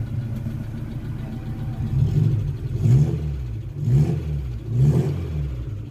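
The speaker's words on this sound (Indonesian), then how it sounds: "Kita geber-geber coba nih." An old Suzuki Carry minibus engine revs up in repeated bursts, about four rising throttle blips over a steady idle, close and loud with no talk.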